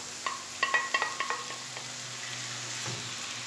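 Onion, carrot, pepper and tomato fry in a pan; a few quick utensil clinks come first, followed by a soft, steady sizzle.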